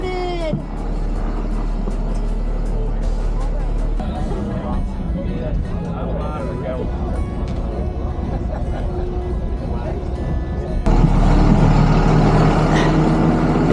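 A yellow school bus runs at the start of an inline marathon, its loud engine rumbling steadily throughout with a hiss like an air brake near the end, while people talk over it.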